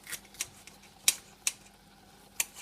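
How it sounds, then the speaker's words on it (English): A knife slices a green bell pepper thinly for a stir fry, giving about six faint, sharp taps on a cutting board at an irregular pace in a quiet room. "I'm cutting this green bell pepper"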